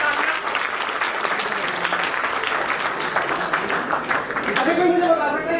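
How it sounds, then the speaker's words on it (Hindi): Loud, sustained applause from an audience of children and adults at a talk by an autism specialist, steady clapping throughout with a voice rising near the end. "एक बार जोर से तालियां।"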